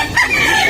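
A rooster crows loudly and close by at a chicken market, a single short burst of crowing with no talking over it.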